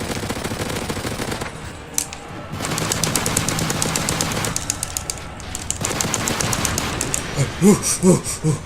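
Rapid automatic gunfire in Call of Duty MW3 as a player fires on an attack helicopter, dense sustained bursts with brief pauses between them and heavier thumping shots near the end.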